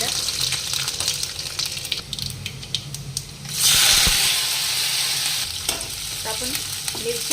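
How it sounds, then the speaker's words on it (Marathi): Mustard seeds spluttering in hot oil in a kadhai during tempering, with cumin and garlic added, a crackling sizzle that swells suddenly into a loud, dense hiss midway and then settles into steady frying. "आता कढईत आपण तेल टाकून घेतलंय, मोहरी टाकली, मोहरी छान तडतडू द्यायची"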